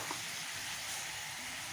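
Capsicum, peas and cabbage cook in a hot pan with a steady, soft sizzle and hiss, continuous and fairly quiet throughout, with no voices.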